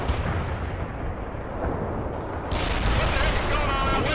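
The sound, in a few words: tank shell firing in World in Conflict video game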